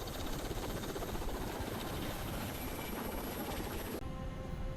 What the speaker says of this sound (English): But the helicopter kept moving. The sound faded.